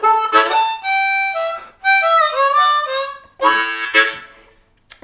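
Diatonic harmonica in D plays an opening lick, several bright, reedy phrases of bending notes separated by short breaths, close and loud, with no one talking.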